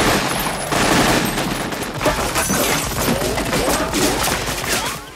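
Dense, continuous gunfire from a 1991 action film robbery scene, including shotgun blasts, rattling loud and near for the whole stretch with no pauses.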